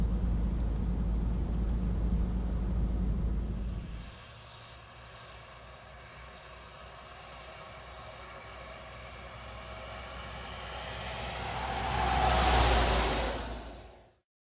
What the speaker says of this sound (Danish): Læg mærke til, at den nye Euro 2-motor, vi kører med her, kan køre med et væsentligt lavere omdrejningstal